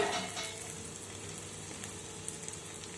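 Capsicum pieces and chana dal fry in a pan, giving a quiet, steady sizzle with soft crackles and a few small pops, heard close and on its own without talk.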